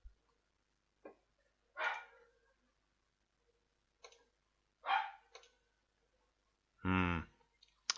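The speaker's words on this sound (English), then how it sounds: "the dog is going really mad down below" A dog barks from somewhere below, sending out separate sharp barks spaced a second or two apart against near silence. The final bark is longer and louder.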